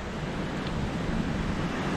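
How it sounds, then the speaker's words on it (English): Steady ocean surf at Isla Verde Beach in San Juan, Puerto Rico, on a day of small waves: a continuous soft wash of water with wind noise, fairly faint and unbroken, with no voices. "Waves aren't too big here today."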